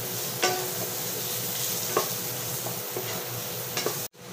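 Raw mango chutney with ground spices sizzles and fries in a pan while a spoon stirs it, with a steady hiss and occasional scraping strokes throughout.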